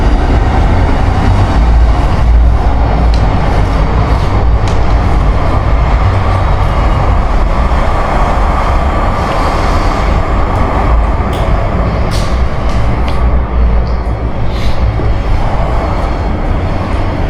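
A train rumbles past a historic 1800s-style single-prisoner cell at Adelaide Gaol, a loud, steady low roar of rolling wagons that persists throughout, with faint clicks and rattles above it.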